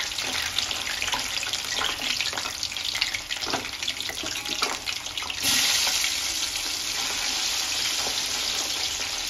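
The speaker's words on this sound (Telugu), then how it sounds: "ఇలా కట్ చేసుకున్న కాకరకాయలు వేయించుకోవాలి" Halved small bitter gourds fry in hot oil, giving a steady, dense bubbling sizzle with scattered pops and crackles throughout; the hiss grows brighter and louder partway through and holds alone without any talking.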